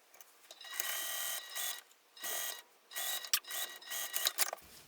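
A sewing machine topstitches a fabric pouch in several bursts of fast, steady whirring and needle clatter. Short pauses separate the runs, and the machine is close and clear with no talk.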